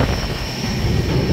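Varanasi Vande Bharat Express rushing past at close range, a loud, steady broadband roar of wheels and wind with no break over the brief moment.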